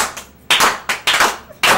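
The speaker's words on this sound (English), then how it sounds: "Good slow clap" Slow, deliberate hand claps from a small group at a live show, sharp separate bursts spaced roughly half a second apart with brief decays and near silence between them.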